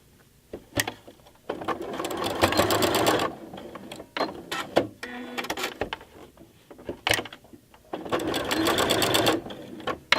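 Sewing machine running a chain-stitch seam, fast whirring bursts of stitching separated by short pauses and soft clicks, close and fairly loud.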